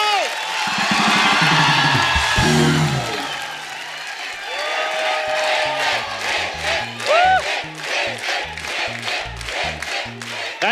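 A studio audience on a Kapil comedy show bursts into loud applause and cheering as Hrithik Roshan walks on, with whoops rising over a brassy entrance tune and then clapping continuing under music.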